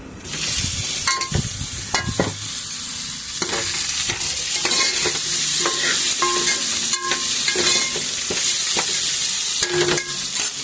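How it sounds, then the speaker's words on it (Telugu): Steady sizzling and frying of tomatoes, green chillies, onion and cumin fills the whole stretch, with repeated clinks and scrapes of a spoon stirring in a pan. No voices. "ఇప్పుడు టమాటా, పచ్చిమిరకాయలు, ఉల్లిపాయ వేస్తున్నా"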